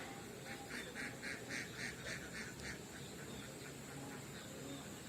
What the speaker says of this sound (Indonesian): ada bebek-bebek juga pagi-pagi gini